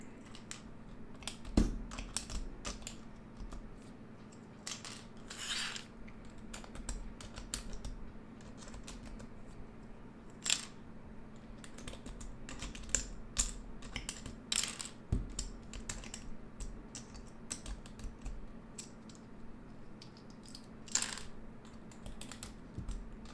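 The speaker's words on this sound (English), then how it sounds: "let's go ahead and take out all the keycaps on this guy" Keycaps being pried off a KBD6X hot-swap mechanical keyboard fitted with lubed Gateron yellow switches: a steady series of sharp plastic clicks and snaps, fairly close, over a low background hum, with no talking.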